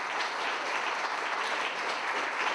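An audience applauds steadily to welcome keynote speaker Elaine Bernard at a talk on work, labour and democracy, a dense, even wash of clapping from many hands throughout, with no voices over it.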